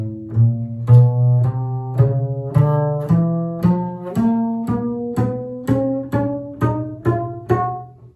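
Plucked bass notes climb steadily upward, one after another at a quickening pace that rushes too fast, each note ringing clearly and alone with no voices.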